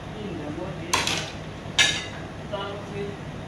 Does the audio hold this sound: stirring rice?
yes